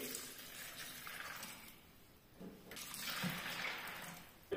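Water poured from a cup over dried corn kernels in a bowl to soak for homemade pamonha, a soft splashing pour that swells and fades twice, close by with no talk.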